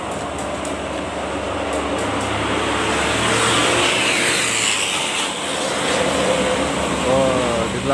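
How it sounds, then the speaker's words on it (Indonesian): Heavy sand trucks labor in low gear up the steep Gekbrong incline, a continuous loud rumbling engine drone with grinding, strained noise filling the whole stretch, close by and steady. "Satu grup mungkin truk pasir dengan payahnya menanjaki tanjakan Gekbrong."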